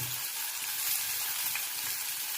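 Green chillies and onion frying in hot oil in a kadhai for Konkani-style pithla, an even close hiss of sizzling throughout with light stirring, no talk.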